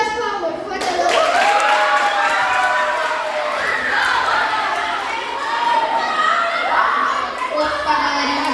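Sixth-grade school students clap in a lively crowd during a classroom author visit, the applause dense and steady throughout, mixed with children's shouts and cheering voices.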